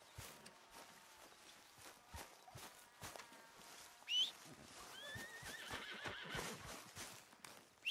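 A horse whinnies amid steady clip-clopping hooves in Red Dead Redemption 2, with a second, longer neigh following; game ambience stays low underneath.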